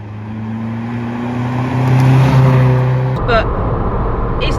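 A Ford Fiesta Zetec S fitted with a new loud aftermarket exhaust, giving a steady low droning engine note that rises briefly and then drops to a rougher rumble, with faint talk mixed in.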